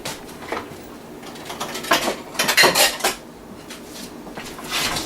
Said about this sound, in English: And let me grab a saucer.